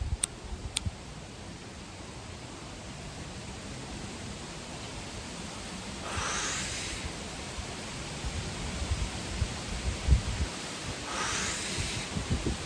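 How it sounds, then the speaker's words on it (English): Wind blowing across a microphone outdoors makes a steady broadband rushing hiss that swells into two stronger gusts, with no voices present. "I do apologize about any wind noise y'all are hearing."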